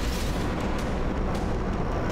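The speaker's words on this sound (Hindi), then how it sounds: "धमाके हैं" A continuous heavy roar with deep booming bursts from Russian attacks on Kyiv, loud and dense, like distant explosions blending into a sustained rumble.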